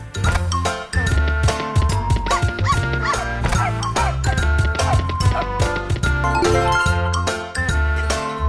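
Dogs bark repeatedly in an online slot game, their yips and woofs mixed with loud, jingly reel music, chimes and clinking tones that play continuously and densely.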